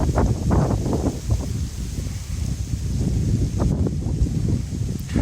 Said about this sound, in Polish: Wiecie co, wiatr bardzo wieje.